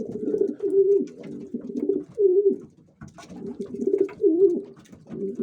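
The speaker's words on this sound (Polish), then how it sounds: "Mam tam chyba trzy albo cztery gołębie takie, co jedzą ręki." Hand-fed pigeons coo close by in repeated soft, throaty phrases with brief pauses between, each call rolling and bubbling in a steady rhythm.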